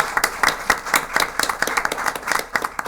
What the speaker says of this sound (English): How about a round of applause for our DECA School President?